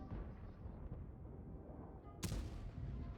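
A tank's main cannon fires once in a tank battle video game, a sudden loud blast cutting through steady rumbling battle noise and trailing off into the ongoing din.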